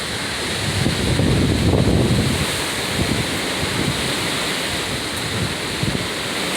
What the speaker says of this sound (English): the wind here kind of feels like when I was at the Ocean View lot